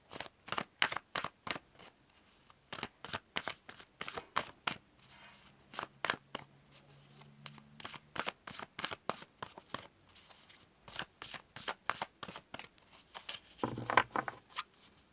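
Tarot cards shuffled by hand in a steady run of crisp riffling snaps and flicks, close and fairly loud, with brief pauses and a denser flurry near the end; no talking.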